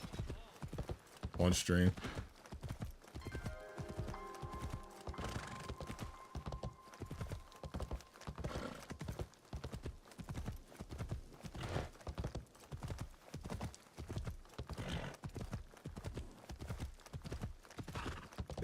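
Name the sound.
horse hooves clip-clopping in Assassin's Creed Shadows video game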